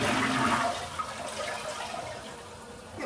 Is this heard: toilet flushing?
yes